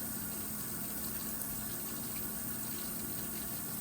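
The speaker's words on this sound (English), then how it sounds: "Once you're done singing happy birthday twice, rinse your hands off." Water runs steadily from a bathroom tap as hands are rinsed under it after washing, a constant broadband rush held at even loudness throughout with no talking.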